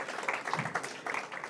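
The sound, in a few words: audience round of applause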